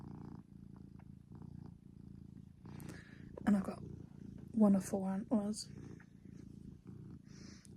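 A house cat purrs in a low, continuous rumble close by while someone talks over it, the purr steady beneath her voice throughout.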